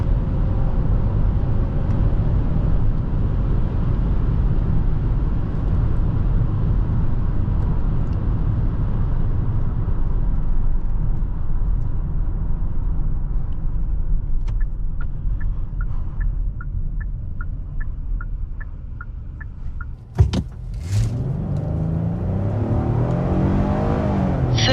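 V6 engine of a 2026 Hyundai Palisade Calligraphy while driving, a steady deep drone with road and cabin rumble, growing slightly lighter midway, followed by a brief clunk and a rising rev.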